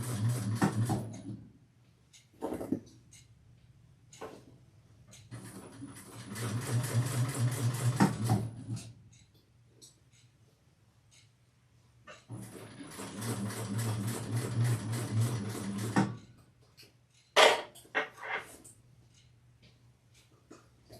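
A sewing machine stitches a handbag seam in several bursts of rapid mechanical whirring, separated by quiet pauses and small clicks and knocks of handling the fabric.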